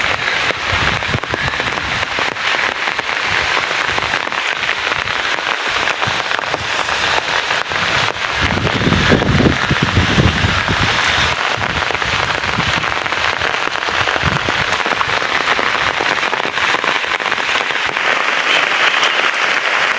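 Heavy rain hammering down steadily, a dense continuous patter on a hard surface close by, with no voices.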